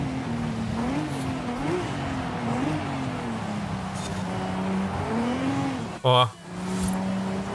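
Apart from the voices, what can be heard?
Lamborghini Huracan skidding in video game Forza Horizon 5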